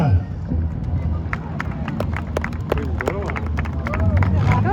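An audience in the grandstands at a stunt and bigfoot show in Nice claps and cheers, with sharp scattered claps and crowd noise under an announcer speaking.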